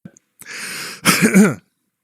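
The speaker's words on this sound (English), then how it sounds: "needs to cough for a second" A short throaty cough, broad and noisy, followed by a rougher rasping burst, close and fairly loud with quiet around it.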